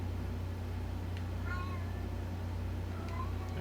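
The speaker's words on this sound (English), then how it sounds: "It's a cat." A cat meows in the video game Life is Strange: True Colors, two short faint mewing calls over a steady low background hum, with speech-like sounds around it.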